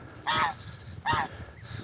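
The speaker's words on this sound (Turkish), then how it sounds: "Kaz yavrularımda." Two short honks, a second apart, from young geese close by, with quiet background noise between them.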